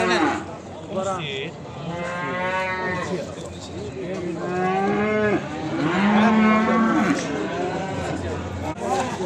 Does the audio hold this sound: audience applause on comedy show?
no